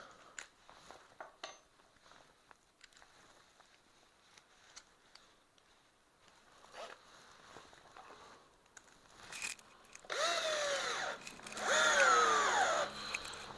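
Erbauer 12V cordless drill set to screwdriving at maximum torque, scattered clicks and handling noises giving way to two loud whining bursts of the motor driving a screw near the end.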